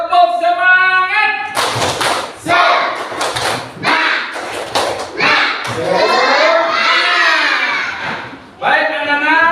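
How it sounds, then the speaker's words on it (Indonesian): Elementary schoolchildren in a classroom perform a rhythmic spirit clap chant, loud bursts of clapping and shouted voices in quick patterned beats, opening after a teacher's sung or spoken lead-in. "Tepuk semangat."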